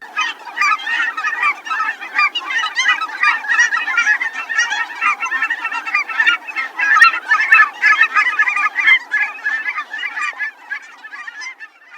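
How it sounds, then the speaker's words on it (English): A flock of cackling geese calls continuously, with many overlapping squeaky, high honks, loud and busy throughout. "In terms of calls, cackling geese are a bit squeakier."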